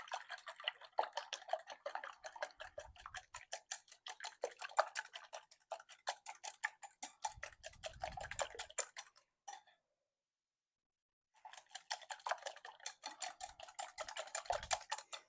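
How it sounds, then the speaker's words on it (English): Eggs for a potato and bell pepper frittata are whisked in a bowl: fast, steady, rhythmic clicking strokes, close and fairly soft, pausing briefly before resuming at the same brisk pace. "In the meantime, we're going to whisk the eggs"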